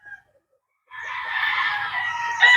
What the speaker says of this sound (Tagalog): let me introduce to you one of my imported broodcocks